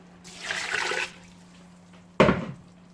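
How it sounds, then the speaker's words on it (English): Water poured into a pot for boiling rice, in two short bursts: a brief rushing pour, a pause, then a sharper splash. Nearby, with a faint steady hum underneath. "here I put my rice for the boil, and I'll put the water inside"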